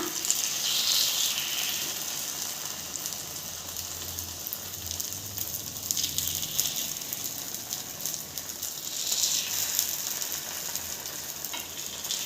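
Banana flower kuzhi paniyaram fry in ghee in the pan, a continuous bright sizzle and crackle that swells and eases in waves, steady and close without any talk.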